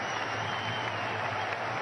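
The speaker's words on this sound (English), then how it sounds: "Gets a big ovation from this crowd, and he deserves it" Dense, continuous applause from a cricket crowd in Pakistan vs West Indies 2003, ovation for a batsman, steady and fairly distant with a faint commentary voice underneath.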